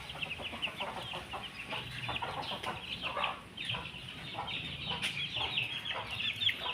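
A young gamecock stag, just let out of its cage among fields, clucks in a run of quick, close calls, steady and fairly loud, with no one speaking.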